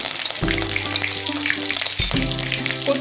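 Curry leaves dropped into hot oil for a fish vada bhaji, a loud, close crackling sizzle that bursts up sharply and keeps spitting steadily on its own.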